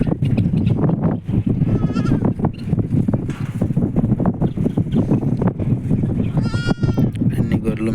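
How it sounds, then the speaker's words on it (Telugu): Sheep and goats bleating among a herd in the Kuwait desert, with several overlapping calls under steady wind and talk throughout. "అన్ని గొర్రెలు, మేకలు."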